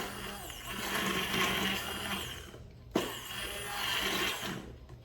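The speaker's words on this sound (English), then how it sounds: "I'm not wild about my immersion blender that I'm using today" An immersion blender whirs steadily as it purees a squash and potato soup, a continuous motor drone that dips briefly near the middle before resuming, close and fairly loud with no talk over it.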